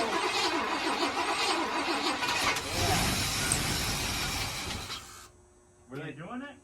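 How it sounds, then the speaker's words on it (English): A 1987 Chevrolet K5 Blazer engine cranks and churns loudly for several seconds, then cuts out, with people talking briefly over and after it. "we can finally get the Blazer to fire up and run"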